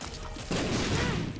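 A burst of explosions from the video game The Binding of Isaac: Rebirth erupts halfway through, a dense crackling blast that swells over the game's steady background sound and stays loud to the end.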